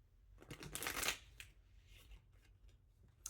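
A deck of cards being shuffled up close, a quick flurry of riffling flutters and soft slaps, fairly quiet with short pauses.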